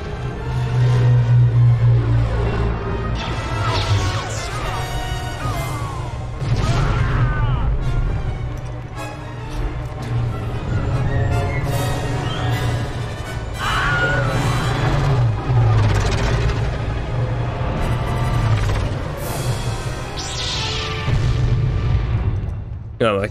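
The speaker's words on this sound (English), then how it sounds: "Of course I had to do the explosion whilst he looks away." Explosions in the video game Star Wars: The Force Unleashed: deep, loud booms and rumbling crashes roll on through a dense, continuous wash of game sound effects.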